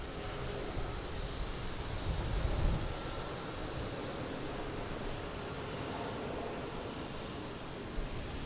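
A Delta Airbus A330-900 bound for Madrid takes off at Boston Logan, producing a steady, fairly faint broadband jet roar heard from a distance. It swells slightly around the third second, then holds an even rumble.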